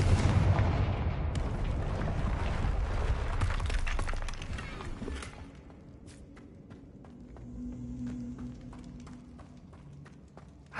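A Confringo blasting-spell explosion in the video game Hogwarts Legacy bursts loudly at the start and rolls off into a decaying rumble, then gives way to quieter ambience with faint footsteps and a soft tonal hum.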